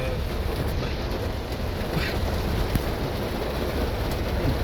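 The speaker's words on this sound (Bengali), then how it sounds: "ঝুম বৃষ্টি হচ্ছে একেবারে" Heavy rain drums on a moving car during a drive, a dense, loud, continuous roar of rain and road noise with no break.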